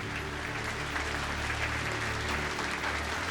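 Dense, steady applause fills the hall at the Anahit film awards ceremony, a continuous wash of clapping from a large audience at moderate loudness with no break.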